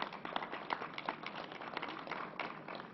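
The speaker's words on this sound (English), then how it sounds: "let's give Donna Lepardo, Assembly member, a big round of applause" Dense, continuous applause from an audience at a COVID-19 briefing greets an Assembly member, a faint, even patter of many hands heard from a distance, with no speech.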